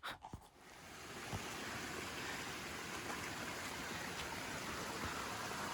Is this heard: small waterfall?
yes